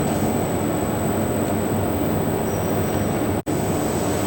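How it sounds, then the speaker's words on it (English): A lab extruder running at 40 RPM with its gear pump going, giving a steady, loud machine hum and broadband whir with a constant high whine, continuous throughout apart from one brief dropout. "and then you start the extruder at 40"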